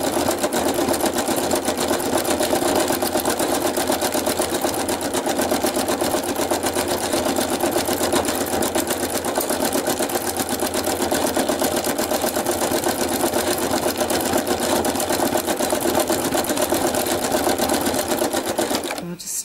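Sewing machine stitching a mix of longer and shorter stitches for a textured, coloured-in look, a loud continuous close-up mechanical chatter running steadily throughout with a brief knock at the very end.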